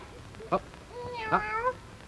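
A human voice imitates a cat's meow for a little dog, giving a short squeak and then a longer, rising and falling meow over quiet room noise.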